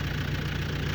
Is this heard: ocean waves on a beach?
no